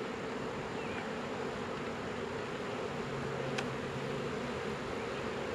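Honeybees buzz steadily and close throughout a first hive inspection, a continuous insect hum with a faint brief click partway through, no voices.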